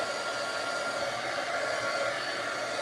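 A handheld dryer blowing over fresh paint on a craft piece, a steady, even whooshing drone that holds unchanged from start to finish.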